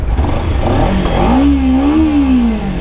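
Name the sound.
motorcycle exhaust revving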